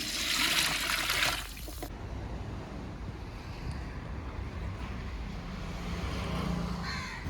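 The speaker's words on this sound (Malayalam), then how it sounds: "ഇതിന് നമുക്ക് മൂന്ന് പാത്രം വെള്ളം കൂടി ഒഴിച്ചു കൊടുക്കാം" Water is poured into a pot of rice for a meat-and-rice dish, a loud rushing splash for about two seconds that cuts off into quieter room noise.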